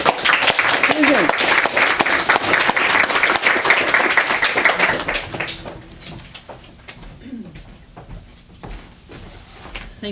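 A small audience at a poetry reading gives the poet loud, close applause that fades out after about five seconds, leaving room noise and scattered sounds of people.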